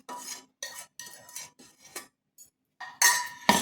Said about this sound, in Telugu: ఇందులో పోపు వేసుకుంటున్నాను.